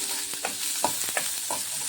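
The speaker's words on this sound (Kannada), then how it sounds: "1 ಮೀಡಿಯಮ್ ಸೈಜು ಈರುಳ್ಳಿ ಕಟ್ ಮಾಡ್ಕೊಂಡಿದ್ದೀನಿ. ಇದನ್ನು ಚೆನ್ನಾಗಿ ಫ್ರೈ ಮಾಡ್ಕೊಳ್ಳಿ." Chopped medium-size onion frying in a little oil in a pan, with a steady soft sizzle and several clear scraping stir strokes spaced through the short stretch, close and fairly quiet, with no voices.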